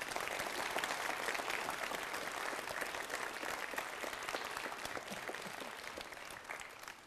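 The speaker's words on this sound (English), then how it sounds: "Let's give them all a big round of applause, shall we?" Steady, dense applause rises from an audience for students at an author event about The Very Last Green Thing, sustained for several seconds at a fairly distant, even level before tapering slightly.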